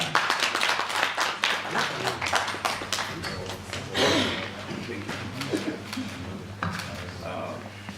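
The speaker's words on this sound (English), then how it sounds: "let's clap our hands and welcome on stage Prof. Tsohata Mkhwata." An audience at a Limpopo provincial outcomes announcement applauds to welcome a speaker on stage, with a close, uneven burst of clapping that thins out over several seconds, with some voices mixed in.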